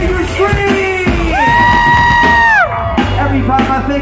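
A concert crowd at a Vans Warped Tour rap stage in Ventura screams and yells loudly, with sustained whoops and cheers rising together, dense and close throughout.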